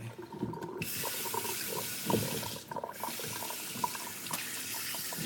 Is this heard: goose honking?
no